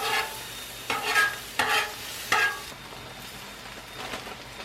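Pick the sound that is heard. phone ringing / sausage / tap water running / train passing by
sausage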